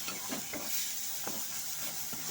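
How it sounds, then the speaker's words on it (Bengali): Red amaranth greens (lal shak) stirred with salt in a pan over medium heat, a steady soft sizzle under several scraping spatula strokes spaced through the short stretch, close and moderately quiet. "এর সাথে ভালো মতো করে লাল শাকটাকে মিক্স করে নেব।"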